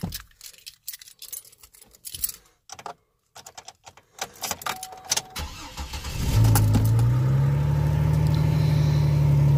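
A car with a leaking coolant hose and a new hose clamp is cranked after some handling clatter, and the engine catches around midway and settles into a loud, steady, rough idle, heard up close with no talk.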